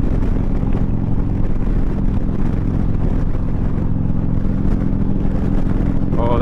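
A 124 ci Harley-Davidson Street motorcycle fitted with Öhlins suspension rumbles steadily while being ridden, its loud low engine drone heard up close, with wind noise throughout.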